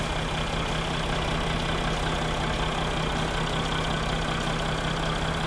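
A Mercedes-Benz S-Class W222 S350d 4MATIC diesel engine idling with the bonnet open, a steady, even hum that holds at one level throughout, close by and alone with no talking.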